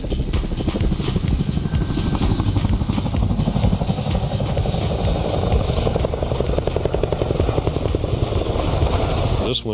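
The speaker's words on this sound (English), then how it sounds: "the ability to carry heavy loads slung underneath makes the Chinook the most versatile military helicopter" A Chinook tandem-rotor military helicopter thumps with a rapid, heavy rotor beat and loud engine roar, steady and close throughout, with a voice talking underneath.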